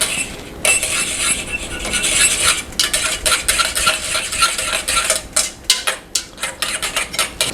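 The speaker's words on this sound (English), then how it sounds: "Give it a good stir and bring to a boil" A spoon stirring homemade barbecue sauce in a pot, with repeated scraping and metallic clinks against the sides, close and fairly loud, growing choppier toward the end.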